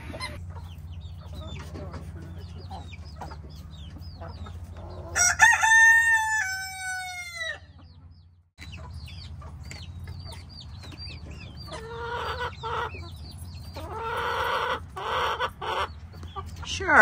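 Backyard chickens cluck and chatter over a treat of leftover apples, with a loud rooster crow midway and busy clucking bursts throughout, close by and unaccompanied by speech.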